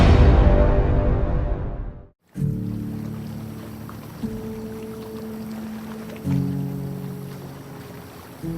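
A motorboat passes on a river in the Arkansas mountains, its broad engine rumble fading out, then a lower steady hum and water noise continuing in the distance.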